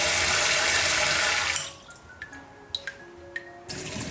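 Tap water gushes loudly as a sea bass is rinsed clean in a kitchen sink, then cuts off, leaving a few scattered drips and small splashes.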